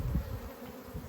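Honey bees buzzing at a hive frame, a steady low drone that swells and dips slightly, close and continuous with no talking.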